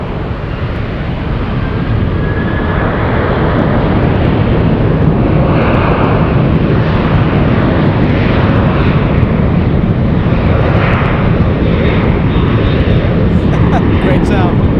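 A Korean Air jet in its new livery at San Francisco airport, heard as a loud, steady broadband engine roar that holds for the whole stretch, with people talking over it.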